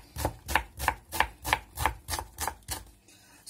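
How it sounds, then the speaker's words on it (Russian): A knife chops onion into small cubes on a cutting board, eight crisp, evenly spaced strokes in a steady rhythm, close and clear, then the chopping stops. "Как резать лук? Особого значения не имеет. Я порежу вот так вот небольшими кубиками."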